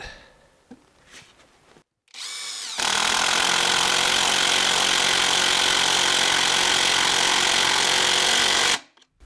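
A Litheli U20 half-inch cordless impact wrench hammers steadily and loudly for about six seconds on a regular non-impact socket, preceded by brief handling clatter and a short burst, then stops abruptly.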